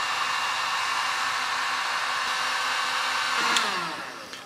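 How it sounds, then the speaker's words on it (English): A heat gun blows a steady, even roar while heating powder paint on homemade fishing jigs, holding constant for several seconds before tailing off slightly, with no voices. "Quiet heat gun."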